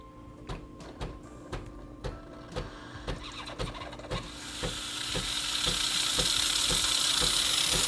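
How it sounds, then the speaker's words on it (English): Steady clicking ticks give way to a rising, continuous hiss of steam from a Breville Barista Express espresso machine steam wand being purged, swelling to a loud broadband rush and holding. "you need to purge the excess water or steam which is in the wand"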